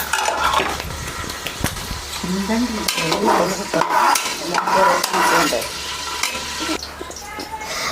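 Cashews and raisins fry in ghee with a steady sizzle, stirring and occasional clinks of a utensil against the pan, continuous and close throughout.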